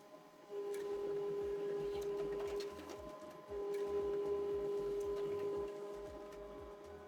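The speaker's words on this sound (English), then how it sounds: "The document is now printing out." Printer running off a document sent from a phone: two long, steady mechanical whirring passes with a sustained tone and rhythmic clicking feed pulses, quiet, with a short pause between them.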